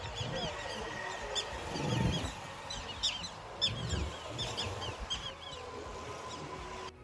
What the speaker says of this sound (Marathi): आता इथेच येणारा पक्ष्यांचा आवाज 2 मिनिट ऐका